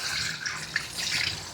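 Running water from a grooming tap or sprayer during a dog's second shampoo makes a steady, close, hissing splash for a second and a half, with no talking over it.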